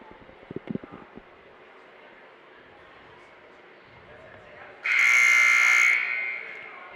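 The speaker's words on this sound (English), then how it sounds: "the buzzer sounds" A loud, sustained buzzer blares for about a second at a girls' basketball game between Niles North and Highland Park, coming after quieter voices and faint crowd noise.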